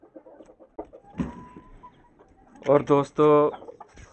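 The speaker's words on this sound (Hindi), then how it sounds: "और इधर हमारी ये मुर्गी हैं" Backyard hens cluck loudly and close by in rising bursts, with someone talking over and between the calls.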